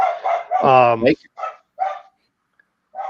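A dog barks up close, one loud strained bark followed by several shorter barks and yips spaced irregularly, with brief silences between.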